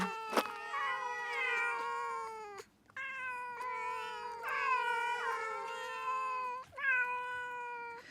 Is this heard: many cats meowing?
yes